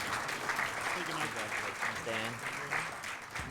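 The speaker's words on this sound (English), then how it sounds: "Let's give a big round of applause to our PGA graduates." Steady applause from a graduation ceremony audience honoring PGA program graduates, dense clapping sustained throughout at a moderate, even level, with faint voices mixed beneath the crowd.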